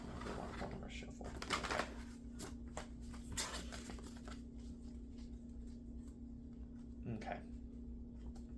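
A deck of tarot cards is shuffled at close range in several soft riffling bursts with gaps between them, quiet against a steady low hum.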